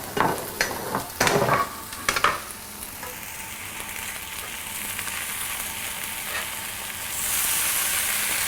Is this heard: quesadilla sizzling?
yes